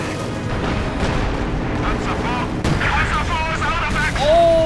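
Howitzer artillery fire in the Company of Heroes 2 war strategy game, heavy booming blasts and rumbling battle noise running throughout, with game sound effects and commentary talk mixed in over it.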